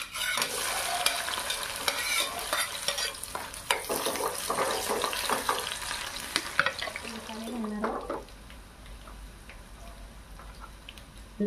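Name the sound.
garlic and green chili frying in hot oil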